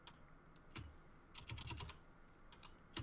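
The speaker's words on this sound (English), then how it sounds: "your keyboard is so loud. It's a mechanical keyboard!" Keys clack on a loud mechanical computer keyboard, heard as scattered sharp taps and short bursts of fast typing, faint and close with no speech.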